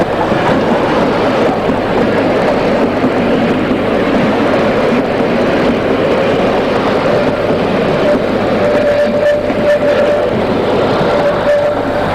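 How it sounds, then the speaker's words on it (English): East German steam locomotive 5904 shunts its train at the Gernrode terminus, a loud, continuous rumbling and chuffing mass of sound with a thin tonal squeal rising faintly toward the end. "5904 has arrived from Alexisbad and is shunting its train before retiring to the shed"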